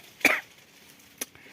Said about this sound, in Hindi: तब तक तो खांसी बीच में आ जाती है